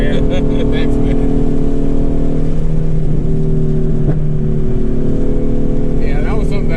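A twin-turbo V6 car with a resonated exhaust runs loud and close, a deep steady droning rumble with a brief rev, while people talk over it.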